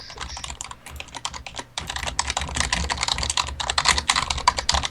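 A loud clicky computer keyboard being typed on rapidly and close up, a dense clatter of keystrokes that grows busier and harder after a brief pause, continuous with no speech.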